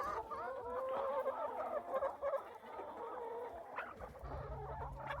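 Free-ranging homestead chickens on a 10-acre Indiana farm cluck and chatter with rising alarm calls, a busy, close flock of overlapping voices that grows more urgent toward the end.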